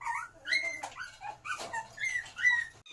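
Hungry abandoned black puppies whine and whimper in rapid high-pitched cries, several overlapping yips and squeals close up with no talking.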